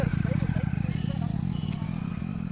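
A motorbike engine drones steadily close by outdoors with a low, rumbling pulse, accompanied by rattling clatter and voices in the background.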